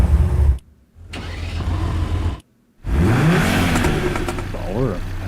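A car engine in the Rocket Racing video game revs in loud bursts, dropping to brief silences before surging again, while a person talks over it.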